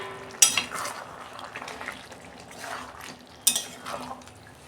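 A lid lifted off a pot of cooking chicken curry, two sharp metallic clanks over a low bubbling simmer and faint sizzling.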